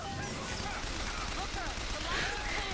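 Rapid gunfire rattles on in the video game BioShock Infinite, a dense, continuous burst of shots blended with game effects and layered under game sound.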